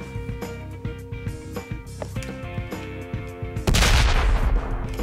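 Rapid gunfire in the video game Ride To Hell: Retribution, a steady run of sharp close shots at an even rhythm that builds into a louder, denser burst of fire toward the end.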